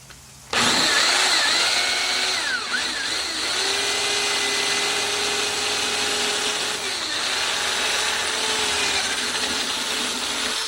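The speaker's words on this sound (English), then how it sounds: "These rivets here are what you're going to have to drill out," A power drill bores out the trunk lid rivets on a 1999-2004 Oldsmobile Alero or Pontiac Grand Am, starting abruptly into a loud, continuous whine with pitch shifts as the bit bites metal.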